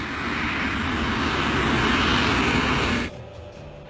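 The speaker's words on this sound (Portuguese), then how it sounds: "Sem menção de flaps, eles estão começando a taxiar." Airliner engines during taxi toward the runway, a loud steady roar and whine that cuts off abruptly near the end, as heard from a cockpit recording.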